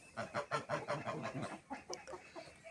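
Hens in a backyard poultry run, including a Brahma and a mixed-breed hen, cluck in a steady run of fairly close, rhythmic bursts that slowly grow softer and more scattered.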